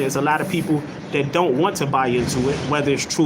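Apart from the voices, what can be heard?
None of the usual background noises is heard.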